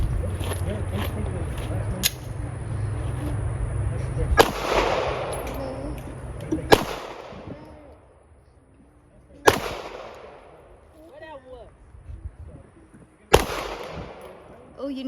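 Glock pistols fired at targets on an outdoor range, a few sharp, loud single shots spaced seconds apart, each with a short echoing tail, between stretches of background noise.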